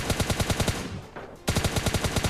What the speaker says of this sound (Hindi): यहाँ पे स्टेडियम के पास भी मतलब कुछ गन साउंड्स आ रही है